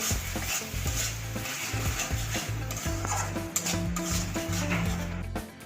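Spices and crushed kasuri methi are stirred in a hot pan for a paneer kasa, with steady rhythmic scraping strokes and clinks over a constant sizzle, close and fairly loud.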